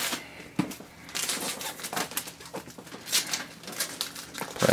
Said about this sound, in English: we'll peel off the plastic